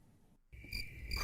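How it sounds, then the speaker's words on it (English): A cricket chirping sound effect: a steady, shrill insect trill begins after a short silence and pulses on at moderate volume, heard alone without voices. "Crickets."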